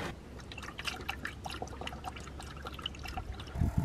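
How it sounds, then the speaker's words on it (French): Coolant poured into the engine of a camper van, a steady close trickle and splash of liquid with small irregular drips and gurgles running the whole time, ending with a brief louder gush. "Mais on va remettre un peu de liquide de refroidissement."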